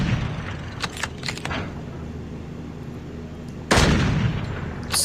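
Sharp gunshot reports from an SPR 208 marksman rifle in a video game, a few scattered cracks early on and then a louder, closer blast that rings out and decays toward the end.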